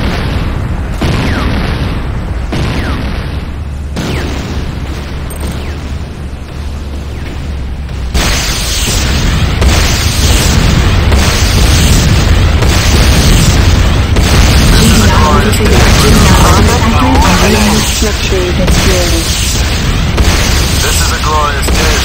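Explosions rock a base under attack in the Renegade video game, heavy booms and bursts piling up loud and near, a rumbling barrage that thickens midway, with game voices speaking over parts of it.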